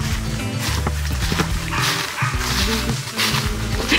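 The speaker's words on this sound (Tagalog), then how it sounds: "Ay, ayan yung aso nila." Dog barking at a family birthday gathering, with several bursts over a busy background of voices and party noise.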